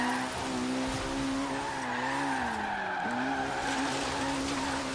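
A maxed-out, high-power, low-grip Ford Focus Horizon Edition drifts in the Forza Horizon 3 video game, its engine droning steadily while the tires squeal continuously and wavering in pitch across the slide, loud and alone.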